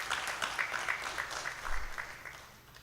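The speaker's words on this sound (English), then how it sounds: "let's give a very big round of applause for that powerful presentation" Light, scattered clapping from a small symposium audience after a presentation, fairly quiet and steady, thinning out toward the end.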